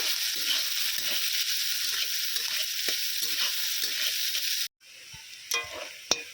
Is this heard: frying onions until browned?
yes